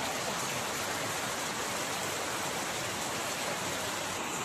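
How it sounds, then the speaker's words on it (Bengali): Heavy rain pours into a home courtyard as a loud, unbroken wash of noise that holds steady throughout, with no one talking. "ফাইনালি আমাদের বাড়ির সামনে উঠানে বৃষ্টিটা হচ্ছে, দেখো আমাদেরকে দেখাই, প্রচণ্ড বৃষ্টি হচ্ছে।"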